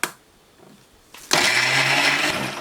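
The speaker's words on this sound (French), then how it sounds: "Donc là je mixe le tout pour l'instant." A kitchen blender starts up on a chicken marinade made with olive oil, a brief quiet lull and then a sudden loud, steady high whirring motor that keeps running to the end.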